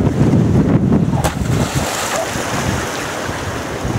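Ocean surf and a breaking wave roll past a small robot sailboat on an Atlantic crossing, a broad loud wash swelling and then easing into steady hiss, with wind buffeting the microphone.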